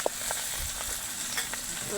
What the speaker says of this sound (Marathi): आता मम्मी कढीपत्ता आणि कोथंबीर तळून घेऊन राहिल्या